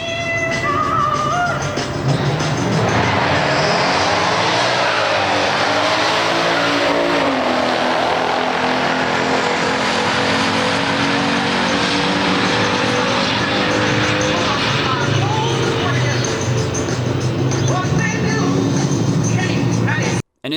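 A 1969 Chevelle SS 396 V8 and a Challenger drag race, a loud sustained roar of big-block engines with rising gear-change sweeps and crowd and track noise, continuous for about twenty seconds before stopping sharply.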